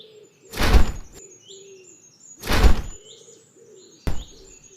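A Philippine eagle makes thin, high calls between three loud, broad whooshing bursts, set against a quiet background.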